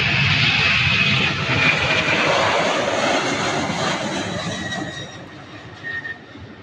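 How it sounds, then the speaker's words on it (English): A UPS MD-11 jet departs Louisville airport, its engines a loud, steady roar that holds for several seconds and slowly fades as the aircraft climbs away. "UPS MD-11 going to Houston,"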